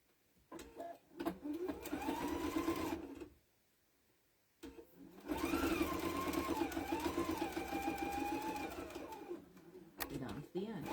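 A sewing machine stitches fabric in two long runs of steady, close mechanical whirring and rattling, separated by a short pause. A voice talks underneath the motor.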